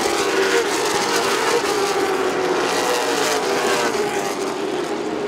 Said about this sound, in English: Coming to the checkers, Bradley McGaskill sideways down the front s